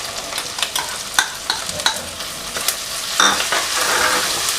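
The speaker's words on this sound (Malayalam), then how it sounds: "ഒന്ന് വഴറ്റിയെടുക്കാം." Crushed ginger and garlic sautéing in a hot pan for a Kerala duck pepper roast, with a steady close sizzle and repeated scraping, clinking stirs of a spoon against the pan, no talking.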